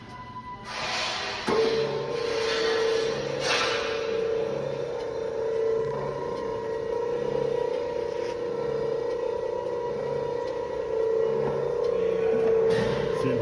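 A Hansford Davis Model 15 automatic keyseater, 1-1/2 by 18 inch, running in a machine shop with a steady mechanical hum and a repeating cyclic knock, fairly loud and continuous throughout.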